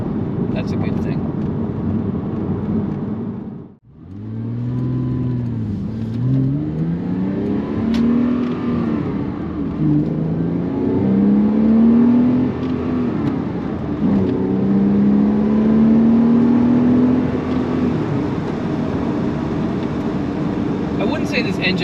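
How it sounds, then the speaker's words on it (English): A smooth flat-six engine in a Porsche 987 Cayman S revs and winds out in rising sweeps, loud and close, with a brief lift-off dip early on. "it sounds like what it is, a beautifully smooth flat six just winding out"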